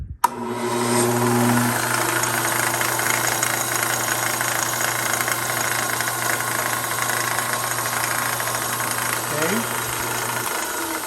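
A Shop Fox M1099 lathe runs steadily with a low, constant hum and a faint rhythmic knocking fault; a brief pitch shift near the end as the speed changes.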